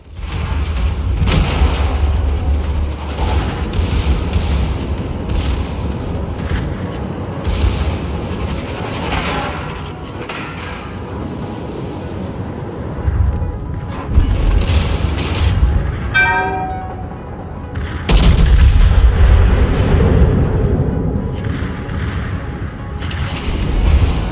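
Naval gunfire in a video game, with the light cruiser Helena firing armor-piercing shells at the battleship USS Massachusetts: heavy booming salvos, rumbling blasts and a metallic ringing hit, loud and dense throughout.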